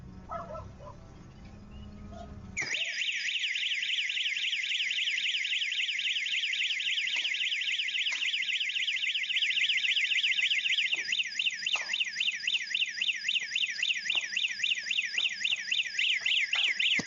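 A security alarm at a South African property during a burglary sounds a loud, continuous warbling siren that starts abruptly after a couple of seconds of quieter background, then repeats steadily with a fast pulsing rhythm.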